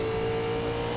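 Race car engine from iRacing's NASCAR Legends 1987 game at Road Atlanta, a steady, loud, droning rev held close and continuous with no break and no voices.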